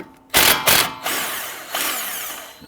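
A power tool fitted with a 13mm deep socket works a front brake caliper bolt on a 2011-2023 Dodge Charger, with loud close bursts: a short double whir, a pause, then a longer steady run.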